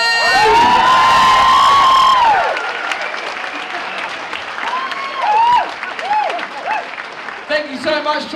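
Loud audience applause and cheering with shouts and whoops greet a local movie star and singer at a hospice dance, dense at first, then thinning into scattered clapping and voices.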